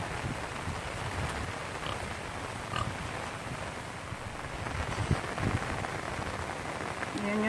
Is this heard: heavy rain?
yes